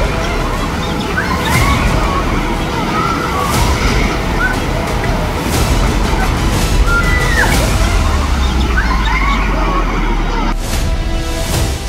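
Floodwater roars through the hills during the Himachal Pradesh flood, a loud, continuous churning rush with sloshing and rumbling debris that never lets up.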